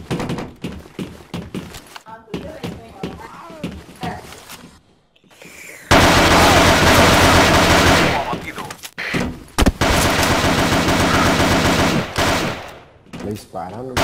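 Gunfire in an online shooter video game rattles off in bursts of sharp cracks, then a long dense stretch of rapid continuous firing, loud and close, with a voice talking between shots.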